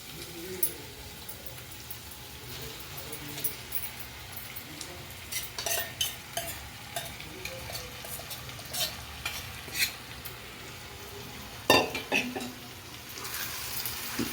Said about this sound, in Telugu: కలిపి పెట్టుకున్న చేపలు ఉన్నాయి కదా అవి అయితే వేసేస్తున్నాను